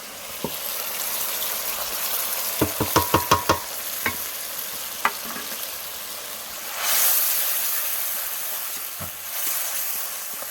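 Meat frying in a pan with ginger-garlic paste, stirred by hand: a steady low sizzle runs throughout, broken by a quick series of sharp spoon clacks against the pan, then a louder hissing surge partway through, with no talking.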